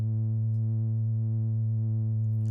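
A single buzzy synthesizer note drones steadily and evenly for a couple of seconds, slightly gritty, with no other sounds.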